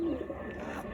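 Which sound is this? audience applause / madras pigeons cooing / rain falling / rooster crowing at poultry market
madras pigeons cooing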